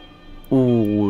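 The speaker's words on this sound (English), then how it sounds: "Ooh, listen to that bell." A church bell in the medieval village-building game Manor Lords strikes once, loud and close, then rings on with a sustained, humming tone.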